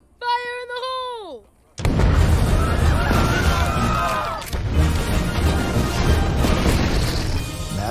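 A loud, sustained explosion blast with crashing debris and rumbling follows a brief voice-like tonal sound, filling the rest of the scene in the animated family comedy film The Addams Family 2.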